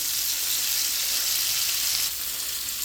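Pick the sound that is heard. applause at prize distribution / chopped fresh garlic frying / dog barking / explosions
chopped fresh garlic frying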